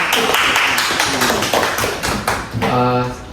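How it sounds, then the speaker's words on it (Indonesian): A group of grade 12 students in a school group counseling session claps hands together, a dense burst of overlapping claps that continues steadily for about three seconds, with a voice starting to speak near the end. "Tepuk tangan dulu."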